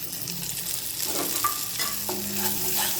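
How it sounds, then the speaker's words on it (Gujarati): Green chillies and ginger fry in hot oil with peanut powder for a potato dish, a steady close sizzle with occasional stirring clinks and no talk. "તળાઈ જાય એટલે ત્રણ મરચાં અને આદુ મરચાં નાખ્યા છે"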